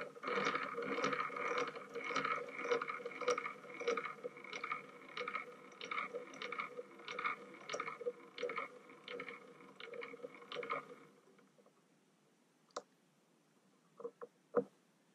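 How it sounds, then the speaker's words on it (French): A machine-tool crank handle turned twenty times while steam-engine parts are machined, giving a steady run of close ratcheting clicks for about eleven seconds before it stops, followed by a few isolated clicks in near silence. "faire 20 tours de manivelle"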